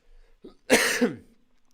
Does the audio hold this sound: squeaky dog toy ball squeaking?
no